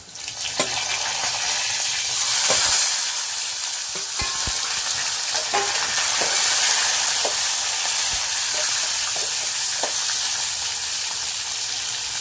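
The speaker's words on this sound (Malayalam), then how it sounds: "ഇത് ഇതും ഒന്ന് വഴറ്റിയെടുക്കാം" Chopped tomatoes sauté in a hot pan for a Brahmin-style sambar, a steady close sizzle with scattered clinks and scrapes of stirring, continuous throughout with no talk.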